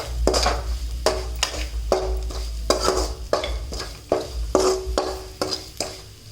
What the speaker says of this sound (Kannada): ಒಳ್ಳೆ ಮಿಕ್ಸಿಂಗ್ ಆಗ್ತಾ ಉಂಟು ನೋಡಿ